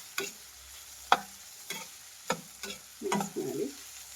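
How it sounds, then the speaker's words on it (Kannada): A finely chopped medium tomato fries in a pan for vegetable Maggi masala noodles, with a quiet sizzle broken by several sharp spatula taps and scrapes at uneven intervals; no talking. "ಸಣ್ಣದಾಗಿ ಹೆಚ್ಚಿರೋಂಥ ಮೀಡಿಯಂ ಸೈಜು ಒಂದು ಟೊಮೆಟೊ ಹಾಕ್ತಾ ಇದ್ದೀನಿ. ಇದು ಅಷ್ಟೇ ಫ್ರೈ ಮಾಡಿ"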